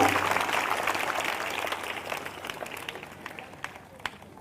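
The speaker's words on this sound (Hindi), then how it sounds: "जिनको समझ में आ गया वो जोरदार ताली बजाकर धन्यवाद दें परमेश्वर को।" Congregation at a Christian church service clapping loudly together, a dense wash of applause that gradually thins and fades, with a few last scattered claps near the end.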